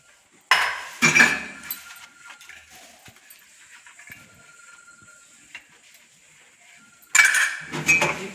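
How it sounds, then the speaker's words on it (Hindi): Dishes being washed: several bursts of metal utensils and pots clanking and clinking together at close range, with quieter rattles and handling noises in between and a second loud clatter near the end. "पहले बर्तन साफ करके तब पोछा लगाऊंगी"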